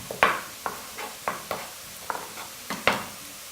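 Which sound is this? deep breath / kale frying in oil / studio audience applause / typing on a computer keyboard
kale frying in oil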